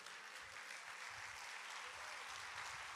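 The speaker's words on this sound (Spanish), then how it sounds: "Yo no sé usted por qué está aplaudiendo." Steady, dense applause from an audience at a church gathering, close and continuous throughout with no clear voices on top.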